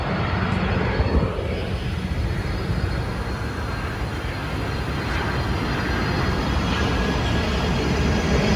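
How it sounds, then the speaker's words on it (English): A passenger plane passes over a Doral hotel property, heard as a steady, loud, broadband engine roar that fills the whole stretch at a constant level outdoors, with no voices. "Oh, there's a plane."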